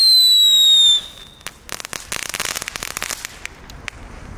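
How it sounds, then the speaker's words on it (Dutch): A high whistling tone cuts off, then dense crackling pops burst and sputter from Aldi consumer firework fountains, loud and close, thinning out toward the end. "Dan hebben we hier de knetterfonteinen."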